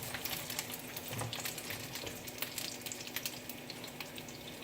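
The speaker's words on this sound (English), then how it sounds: "So I'm just gonna let these get a sear on them" Chimichangas searing in a pan of hot oil, a steady crackling sizzle with scattered pops and spits, close and continuous throughout.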